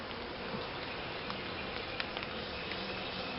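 Honeybees at an open hive during inspection give off a faint, steady buzzing hum, soft and continuous with a few brief louder passes of individual bees.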